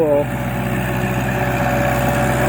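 A Kubota L4708SP tractor's water-cooled four-cylinder direct-injection diesel runs steadily at idle, a close, even mechanical hum with a short higher tone at the start.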